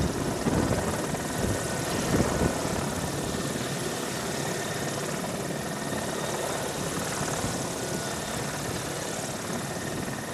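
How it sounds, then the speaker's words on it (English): A Mi-35 attack helicopter flies past with a steady, loud rotor and engine roar that holds at an even level throughout, with no voices present. "The Mi-35 modern attack helicopter can destroy ground-based armored targets."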